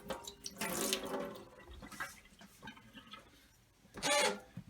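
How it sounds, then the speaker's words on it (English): Water is poured off soaked sprouting seeds in a glass mason jar, coming in a few separate splashy gushes with quiet dribbles between them, close and fairly soft. "We're going to drain them."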